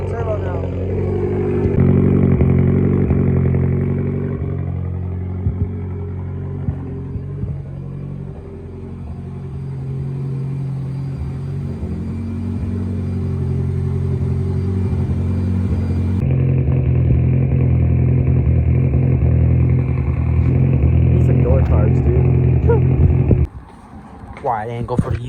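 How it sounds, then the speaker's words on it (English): A turbocharged Mazda Miata with a full 3-inch exhaust idles and revs close by, its deep rumble rising and falling steadily before cutting off near the end. "it sounds crazy with the turbo now."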